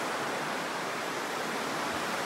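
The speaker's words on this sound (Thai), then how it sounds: "น้ำตกก็ไหลอยู่นี่ค่ะ" A waterfall in Kanchanaburi, Thailand, gives a steady, hissing rush of falling water that fills the whole clip at moderate level with no talking.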